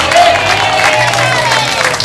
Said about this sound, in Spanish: Los aplausos son para Chávez.